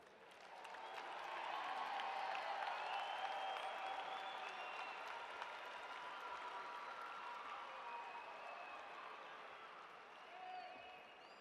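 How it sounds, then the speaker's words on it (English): A large audience applauds graduates at a December commencement ceremony, a broad, sustained roar of many hands clapping in a big hall, swelling early, then holding steady before tapering off. "Please join me in another round of applause for our graduates."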